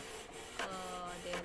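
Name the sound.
Canon PIXMA iP2870S inkjet printer printing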